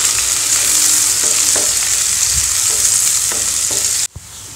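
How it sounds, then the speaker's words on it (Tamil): Onions and curry leaves frying in hot oil for a South Indian egg curry, a loud dense sizzle with light stirring strokes, close up and steady before cutting off abruptly near the end. "வெங்காயம் நல்லா ப்ரௌனாக வறுத்தாச்சு."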